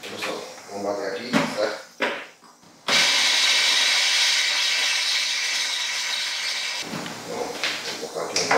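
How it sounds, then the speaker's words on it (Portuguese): A blender roars loudly for several seconds while blending a protein shake, bracketed by clattering and brief speech before and after. "Vamos ali bater no liquidificador."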